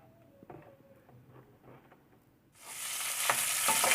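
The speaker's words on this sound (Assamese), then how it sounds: "ফুলকবিকেইডোখৰ তেলত ফ্ৰাই কৰি লৈছোঁ।" Cauliflower pieces dropped into a little oil in a pan: quiet low clatter at first, then a sudden loud, steady sizzle that carries on to the end, with no talk.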